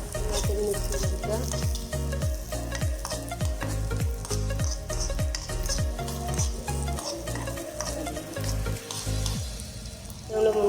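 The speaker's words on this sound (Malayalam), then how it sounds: "നമ്മുടെ തേങ്ങാക്കൊത്ത് മൂത്ത് വരുന്നുണ്ട്. അതിലേക്ക് നമ്മൾ അണ്ടിപ്പരിപ്പ് കൊടുക്കുകയാണ്." Coconut pieces and cashews frying in hot fat for a Vishu payasam, a loud, continuous sizzle with busy stirring and scraping running throughout.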